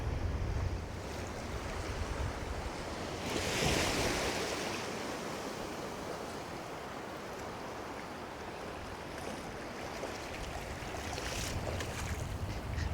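Surf breaks over a bar off the Holderness coast at Easington, a loud, continuous roar of washing waves with gusting wind buffeting the microphone throughout.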